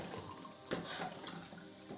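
Water is pumped out of an opened beer keg and pours in a steady, low gushing stream, a faint watery rush with one brief splash partway through and no voices.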